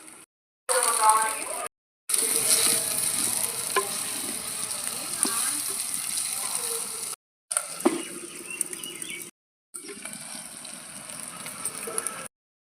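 Tomatoes tipped into onions frying in a pan while cooking dried fish curry, producing a steady, close crackling sizzle with occasional stirring scrapes, broken by several brief silent cuts.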